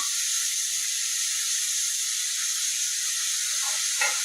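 A ground paste of poppy seed, garlic and onion sizzles in hot oil in a pan. The steady, bright frying hiss holds throughout, close and even, with a faint clink near the end.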